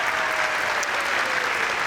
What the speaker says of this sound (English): you can go ahead and clap for her.